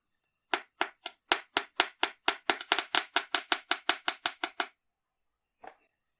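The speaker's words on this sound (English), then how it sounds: "I'm just going to hammer those ends to splay them out a bit." Wire ends on a wire-wrapped cyclist pendant get hammered flat in a quick run of about twenty bright, ringing metal taps, close and evenly paced, followed by one last isolated tap after a pause.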